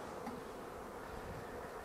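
Honeybees swarm over frames pulled from two hives holding drone brood and larvae, making a steady close buzzing hum that holds evenly for about two seconds with no talking.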